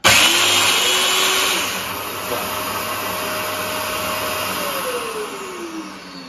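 A Festool DF500 domino joiner is switched on and runs with a steady, close electric-motor whine, with a brief higher start-up surge that eases after a couple of seconds to an even hum.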